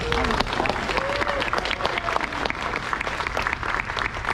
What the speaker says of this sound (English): I think that At least deserves a round of applause.